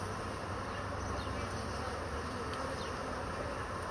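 A swarm of honey bees gathering on a piece of comb fills the air with a steady, dense, close buzz that holds without pause from start to finish.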